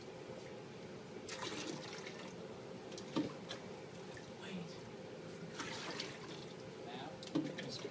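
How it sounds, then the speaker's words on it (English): Water pours at equal rates in an equilibrium demonstration, a steady running trickle with occasional splashy bursts, fairly faint under a low room hum, and a voice speaks briefly over it. "We're pouring at equal rates."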